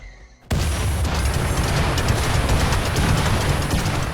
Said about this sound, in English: With the enemy enclosed by fire and explosions on all sides